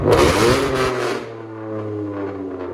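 A 2014 Chevy Camaro V6 with straight-pipe true dual exhaust revs hard to about 4,000 RPM, a loud close roar that drops into a deep steady idle burble.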